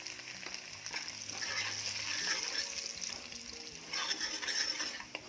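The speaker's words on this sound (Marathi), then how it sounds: "मसाला छान परतून घ्यायचा आहे." Onion with Kolhapuri masala, a spicy onion-garlic chutney, is stirred and fries in a pan for a chawli vegetable dish. The sizzle is soft and steady with occasional scraping, and no one speaks.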